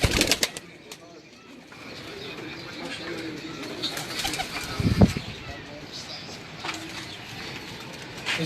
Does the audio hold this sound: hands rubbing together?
no